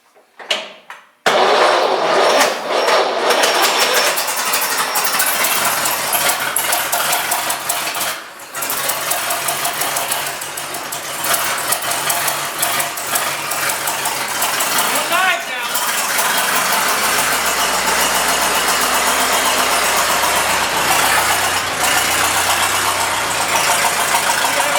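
A 1912 Stearns-Knight engine runs loud with its exhaust cutout open, a dense continuous roar with rapid firing that holds steady for over twenty seconds after an abrupt start.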